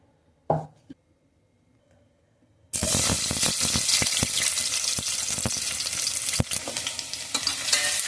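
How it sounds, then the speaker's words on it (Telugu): Onions hit hot oil in a kadai with a sudden loud burst of sizzling that holds steady and close, crackling continuously with occasional stirring knocks; a few faint clinks come before the frying starts. "ఆనియన్స్ వేసినానండి, అవి ఎర్రగా కావాలి ఆయిల్లో"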